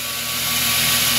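A homemade 2x72 belt grinder, built for knife making, runs at high speed with a steady, loud, even whirring roar and an underlying motor hum, with no voices.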